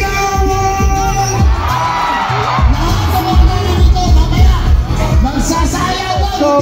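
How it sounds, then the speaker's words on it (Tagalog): A large crowd of Caviteño supporters shouts and cheers loudly at a rally, a dense roar of voices with whoops and yells swelling over the whole stretch. "Isang malakas na sigawan!"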